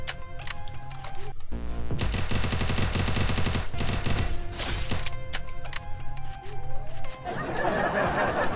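Rapid automatic gunfire in a shooting video game, a dense loud burst of shots lasting several seconds between quieter clicks, ending in a noisy wash.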